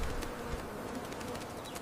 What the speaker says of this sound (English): Busy, busy bees in flight, buzzing softly, what a sight.